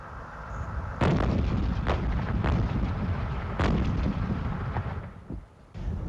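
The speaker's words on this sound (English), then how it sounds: "Rockets being launched from Baghdad airport this morning" Military rockets launching from Baghdad airport during the 2003 Iraq war, a few heavy booming blasts with rumbling roars between them, loud and somewhat distant over constant background noise.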